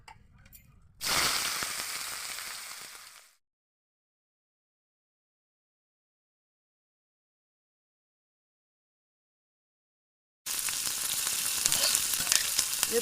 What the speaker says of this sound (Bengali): তেলটা আমার গরম হয়ে গেছে, এবার আমি উচ্ছে আলু তুলে দিচ্ছি তেলের মধ্যে।